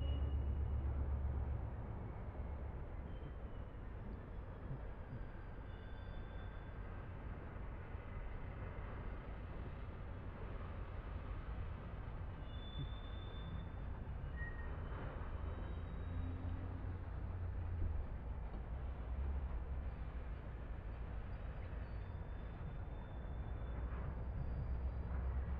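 Train in the video game Train Simulator 2017 on the Köln–Koblenz route, a steady low engine drone and rolling rumble with faint tonal whines drifting in and out, continuous and even.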